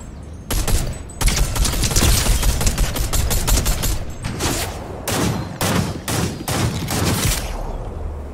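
Heavy video game gunfire, with shots raining down from above in repeated loud cracks and bursts over a dense battle din, sustained throughout.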